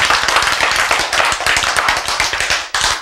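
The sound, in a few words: audience clapping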